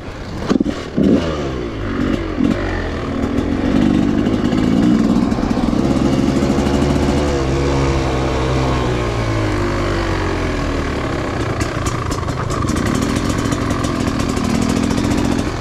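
A dirt bike engine fires up and revs at a motocross track, a loud, close, rough motor rising and falling in pitch as the throttle is worked, with no talk over it.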